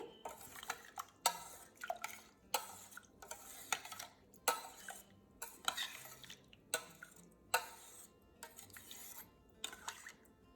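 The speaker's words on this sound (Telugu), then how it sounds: "ఇవి వేసుకుని బాగా మిక్స్ చేసుకోవాలి" Rhythmic scraping and clinking as a utensil stirs powder, garlic cloves and water around a pot, repeating strokes about twice a second, fairly quiet and close.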